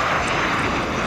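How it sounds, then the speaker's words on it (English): A propeller-driven fixed-wing airplane passes overhead at an airfield, its engine a loud continuous drone filling the short stretch with no talk. "I see a plane."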